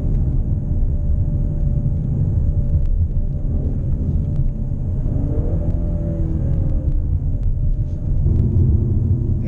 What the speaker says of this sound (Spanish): Ford Mustang GT